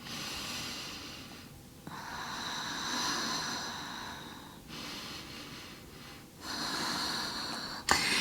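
Slow, deep breaths are drawn in and out while holding a low plank in a vinyasa yoga flow. Long, airy inhales and exhales are heard close up in about two full cycles, with no talking.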